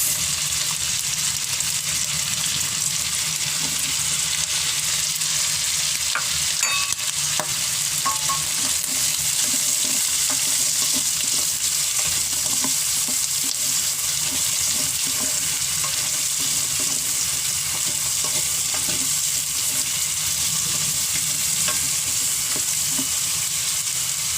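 Carrots tumble into a hot frying pan of Batangas lomi ingredients, setting off a steady, close sizzle and frying hiss that continues throughout with occasional stirring clinks, no voices.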